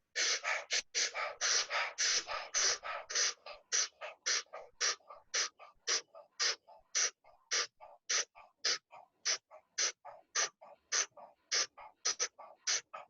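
Rapid, forceful breaths during a belly-breathing breathwork exercise, with about thirty sharp, evenly paced puffs that start in a quick cluster and then settle into a steady rhythm, close and alone.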